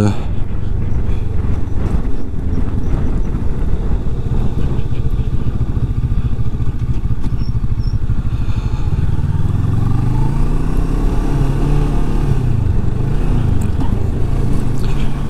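A CFMOTO Adventura 650 motorcycle runs on the road with a continuous engine drone whose pitch climbs and drops as gears are shifted, with a voice talking over it.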